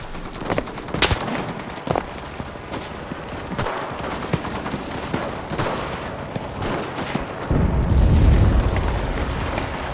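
An artillery barrage in the Pacific War video game Enlisted sends booming explosions and bursts of gunfire through a dense, continuous battle din, with a heavy low rumble swelling near the end.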